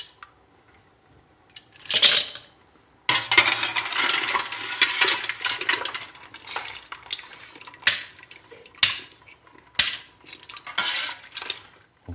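Cooked mussels for paella being drained in a metal pot, with loud clattering shell clinks, a burst of rattling and sloshing, then scattered sharp knocks and scrapes up close.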